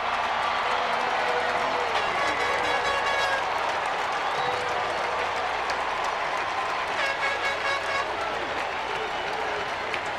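A homecoming football stadium crowd roars and applauds after a touchdown by North Carolina A&T against Florida A&M, a dense sustained wall of cheering with whistles and shouts and an announcer's voice over it.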